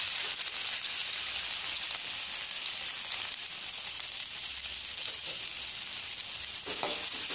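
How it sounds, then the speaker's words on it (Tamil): Chopped onions hiss and crackle steadily in hot oil with popped seasoning for chicken gravy, a dense, continuous sizzle close up with no voices. "இப்போ நம்ம நறுக்கி வச்சுருக்க வெங்காயத்தை போடணும்"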